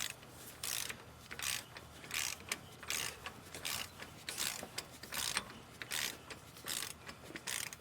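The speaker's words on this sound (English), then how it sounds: "So we're gonna torque the axle nut to 62 foot-pound." A torque wrench tightens the axle nut on a Ford Ranger, giving off a quick run of sharp ratcheting clicks in repeated bursts, close and fairly quiet.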